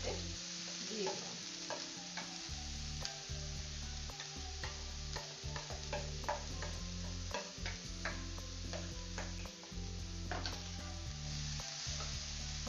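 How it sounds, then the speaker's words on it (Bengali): Grated carrot and beetroot fry with a steady sizzle in a pan, while a utensil scrapes and stirs in repeated sharp strokes throughout, close and alone with no talk. "বাদামটা ভাজা হয়ে গেছে, এবার আমি প্রথমেই দিয়ে দিচ্ছি গাজর আর বিটের এই যে গ্রেট করে রাখা, এটা সম্পূর্ণ এতে দিয়ে দিলাম।"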